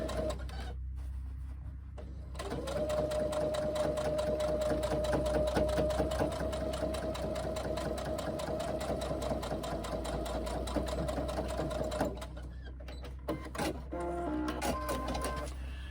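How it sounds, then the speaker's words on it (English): Sewing machine running steadily to stitch a second seam beside the first on a white tote bag, a continuous close, loud mechanical whir lasting about ten seconds, then stopping, with faint handling noises after. "I'm going to sew that second seam right next to it."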